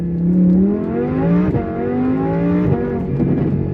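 A car engine revs up and drops in pitch repeatedly as it downshifts, loud and close, with engine tones stepping through gears.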